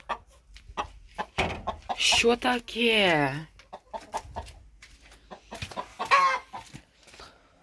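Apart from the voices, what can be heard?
chickens clucking in the morning after rain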